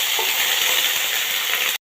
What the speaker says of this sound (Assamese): আদা দিছোঁ। সেইখিনি অলপ মই ভাজি ল'ম।